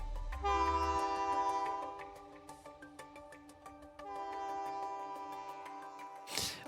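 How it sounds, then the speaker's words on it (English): A train in Alberta sounding its horn with a moose running ahead of it, two long sustained chordal blasts separated by a brief gap, loud and near over a low rumble of the moving train. "this moose is trying to run away from a train"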